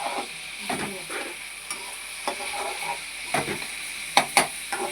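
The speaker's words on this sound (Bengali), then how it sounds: "তোমাদের বৌদি ভাই এবার চাউমিন দিচ্ছে সেই সব ভাজার মধ্যে" Chowmein being stir-fried in a pan with fried ingredients, a continuous close sizzle broken by irregular scraping and clinking of a utensil against the pan, moderately loud with no voices.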